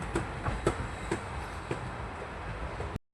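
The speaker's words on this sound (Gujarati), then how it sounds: "તો દોસ્તો અહીંયા આપણે ટ્રેનમાં મુસાફરી કરી રહ્યા છીએ" A special train from Amarsar to Morbi rumbles along with a run of quick rhythmic wheel clacks early on, fading to a steady onboard roar before a brief dropout at the end.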